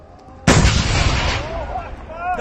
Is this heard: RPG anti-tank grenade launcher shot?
yes